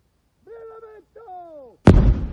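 Controlled detonation of a 500-pound wartime bomb packed with 130 kg of TNT: two sustained warning tones sound first, then one sudden, loud, deep blast whose roar and rumble fill the rest of the clip.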